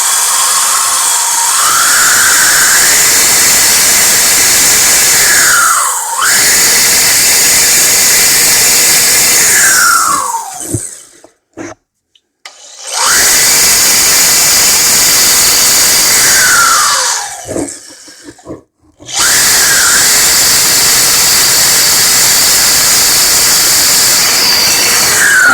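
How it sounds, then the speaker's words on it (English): Power drill boring through a wooden subfloor inside a wall, a loud steady whine that rises and falls in pitch across several long bursts with brief pauses between them, no talking. "and start drilling"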